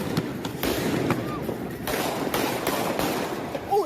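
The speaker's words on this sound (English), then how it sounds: "they shooting guns at them, real guns" Real guns fire at people during a street confrontation, a string of sharp gunshot cracks spaced irregularly across the clip, set in a noisy outdoor crowd with people talking over it.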